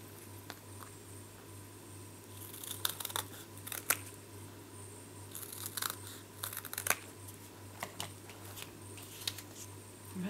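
Scissors snip through card pieces during handmade card-making. Scattered, faint, sharp cuts come close by with soft paper handling in between, in a quiet room with no talking.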